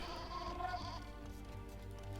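In Age of Empires II, a sheep gives a short, clear bleat over steady in-game background sound. The bleat fades after about a second. No voices.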